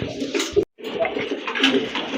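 Soft, close coos of Raj Golla pigeons, a couple of low rolling calls with a brief silent gap between them.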